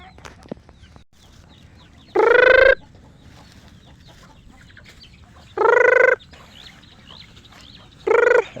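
Chickens clucking and squawking loudly in three separate bursts while being fed old rice, with quiet outdoor background between calls.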